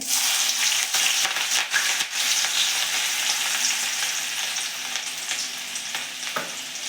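Green chillies hit hot oil already seasoned with cumin and asafoetida, producing a loud, continuous close sizzle with a few sharp crackles and pops, with no one speaking.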